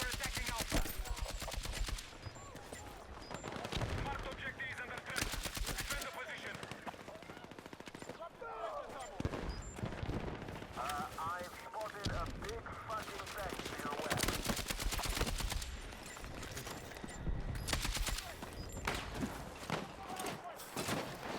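Rapid bursts of automatic gunfire and single shots crack through a Battlefield 6 open beta match, dense and loud throughout, with a player talking over the shooting.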